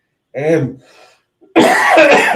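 A short vocal sound, then a harsh, loud cough burst close by, rough and breathy.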